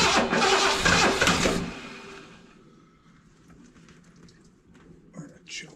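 A 1975 Lincoln Continental Mark IV engine cranks and catches with a loud burst for about a second and a half, then dies away to faint rumbling with a few quiet clicks.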